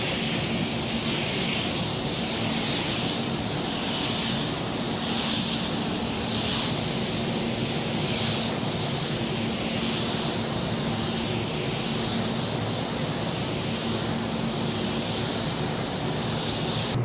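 A paint spray gun lays down a coat on a car panel with a steady, loud, broad hiss of atomized paint, pulsing slightly as passes are made, continuous for the whole stretch with no talk.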